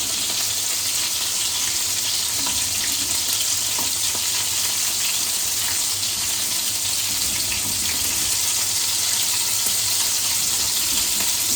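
Tomatoes frying in oil in a worn pan, a steady, close, loud sizzle with a constant hiss and faint crackling throughout, no talk.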